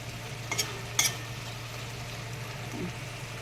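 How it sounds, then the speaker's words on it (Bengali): Morola fish curry with eggplant being stirred lightly in a pan, a soft steady simmering sizzle with two brief utensil clinks early on and a faint scrape afterward, quiet and close. "হালকা একটু নাড়াচাড়া করে নিচ্ছি"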